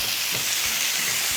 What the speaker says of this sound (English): Stir until red spice cover the potatoes.